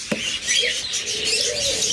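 Pet birds chirp and twitter at a bird sale, a dense, busy chatter of small calls with one brief low note near the start, all at moderate volume and without speech.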